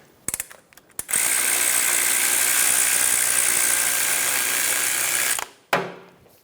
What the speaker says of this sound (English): Get the bolt loose so it can move